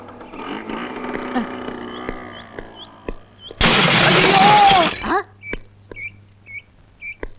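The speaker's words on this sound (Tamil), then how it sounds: "இப்ப ஸ்கூட்டர்ல போனானே அவன் ஆக்சிடென்ட் ஆகி செத்து போயிட்டான்" A scooter accident staged in a comedy film, heard as a loud sudden crash with shattering glass after a stretch of engine hum and beeps, followed by scattered tinkling and sharp clicks.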